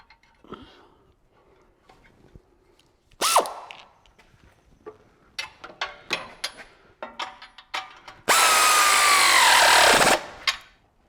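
Bolts and nuts are started on a winch bumper for a Jeep Gladiator: scattered ratcheting clicks and metallic taps, a brief whirring burst, then a sustained power-tool run of about two seconds near the end, with no voices.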